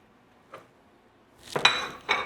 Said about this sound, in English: So now we just basically stir it.